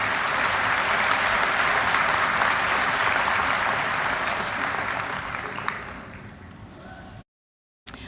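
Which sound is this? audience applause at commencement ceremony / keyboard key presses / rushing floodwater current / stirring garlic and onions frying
audience applause at commencement ceremony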